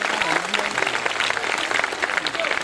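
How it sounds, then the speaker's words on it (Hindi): Audience applause at an outdoor Hindi poetry gathering (kavi sammelan) in Khariar Road, a steady dense clapping that runs throughout without pause, with a faint voice drifting over it. "आप जोरदार तालियों के साथ उनका वादन करें।"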